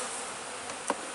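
A steady, close insect drone from many honey bees at the front of a hive, continuous and even, with a brief louder buzz passing near the end.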